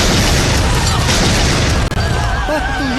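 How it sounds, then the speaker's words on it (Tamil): A loud explosion effect in a Tamil comedy film scene from Aambala: a dense, roaring boom that fills the track, briefly drops out, then gives way to wavering, whine-like tones. "வெடிச்சிருச்சு."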